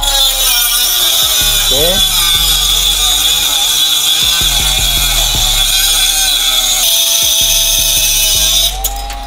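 A battery-powered portable mini angle grinder cuts through iron with a steady high-pitched whine and harsh grinding buzz, loud and continuous, with a person speaking briefly over it.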